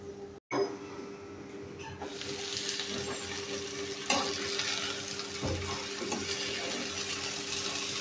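Potatoes and onion stalks frying in a pan while being stirred: a continuous close sizzle and hiss with occasional scraping strokes, after a brief clunk near the start.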